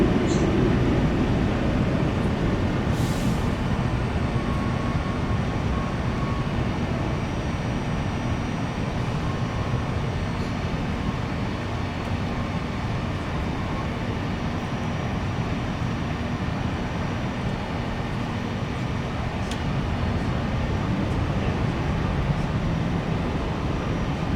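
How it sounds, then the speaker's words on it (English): A Lufthansa Boeing 747-8 inbound from Frankfurt touches down at Chicago O'Hare, a steady broadband rumble of engines and rollout heard from a distance, continuous with no talking. "a Lufthansa 747 will be touching down in the background 747-8 is inbound from Frankfurt"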